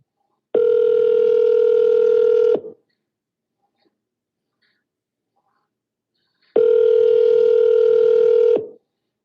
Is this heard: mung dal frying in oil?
no